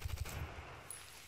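Video game gunfire in an online shooter, a rapid burst of three or four punchy shots in the opening moment, then a quieter tail of low background noise.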